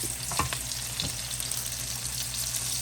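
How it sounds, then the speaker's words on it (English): Onions dropped into a hot pan on high heat sizzle steadily for fried cabbage, a loud continuous frying hiss with a couple of brief bumps near the start. "I'm going to just drop these onions in first."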